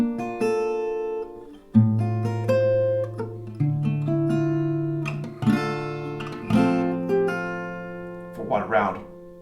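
Acoustic guitar picks out the melody of a song alone, with single plucked notes and small chord clusters ringing and decaying in an unhurried rhythm, close and clear, ending with a brief rougher strum.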